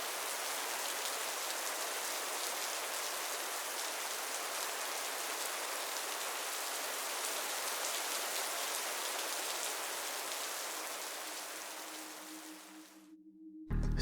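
Steady rain falling outdoors during a pike fishing outing, a dense continuous hiss of drops that holds evenly and then cuts off abruptly near the end, with no voices.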